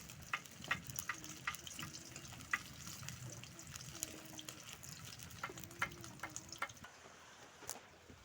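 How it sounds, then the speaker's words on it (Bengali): Fish fries in oil in a wok, giving a quiet, continuous sizzle broken by scattered sharp pops and crackles. "প্রথমে একটু কড়াই তেল দিয়ে মাছটাকে ভেজে নিব।"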